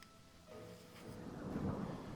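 Thunderstorm with rain: low rolling thunder swells and grows over a steady hiss of rainfall, moderately quiet, with no voices.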